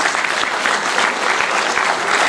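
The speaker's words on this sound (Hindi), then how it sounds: "जोरदार तालियां इनके लिए बजाइए आप।" Loud, dense applause from an audience at a Hindi comedy poetry gathering (hasya kavi sammelan), a steady wash of clapping that holds evenly throughout without a break.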